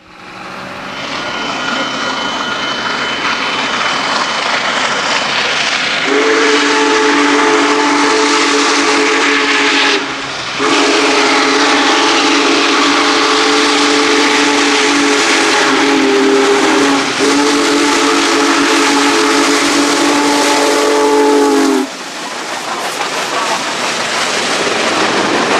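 Union Pacific Big Boy 4014, a steam locomotive passing through Garden City, Iowa, sounds its deep chime whistle in two long sustained blasts over a loud hiss of steam and rumble.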